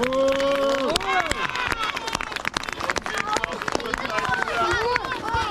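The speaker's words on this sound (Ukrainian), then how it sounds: "А то ще раз оплески кращим гравцям!" Applause and cheering break out for the best players at a children's under-9 football cup award ceremony, dense clapping from a crowd mixed with loud excited voices and children shouting close by.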